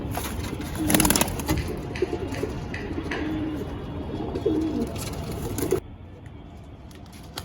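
Madras pigeons coo in a loft with low, repeated throaty calls amid rustling and handling noise, fairly close, before the sound drops to quieter background.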